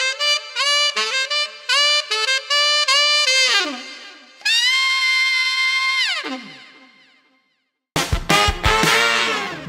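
Alto or tenor saxophone plays the final phrase of a song's solo at a faster tempo, with quick detached notes, held tones and a brief pause before a last burst, heard solo and close.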